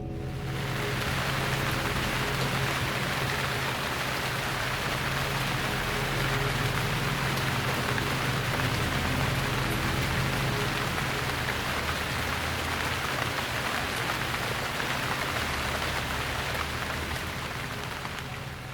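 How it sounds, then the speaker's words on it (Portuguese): Heavy rain pours down steadily in a dense, loud hiss that barely varies, with no voices. "A chuva caía como balde de água."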